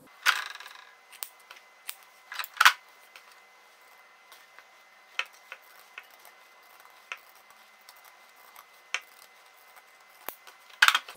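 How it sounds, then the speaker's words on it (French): Sharp snips from pinking shears come one at a time, spaced irregularly and fairly close, as fabric is notched near a seam while a pouch is sewn. A few louder metallic cuts stand out against quiet background. "on va couper en fait en biais toute la pointe aux 2 coins et on va cranter ici avec un ciseau cranteur au plus près"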